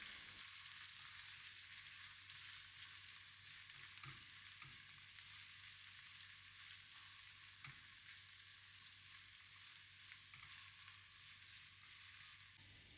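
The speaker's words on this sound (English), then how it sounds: "Stir fry until fragrant." Garlic, chilies, onion and capsicum stir-frying in a hot pan: a continuous hissing sizzle, with a few sharp taps of a utensil against the pan scattered through it, steady and close.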